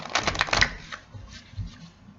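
A burst of quick papery riffling and card slaps from a tarot deck being shuffled, loud at first and then tapering into softer handling with a couple of dull thumps.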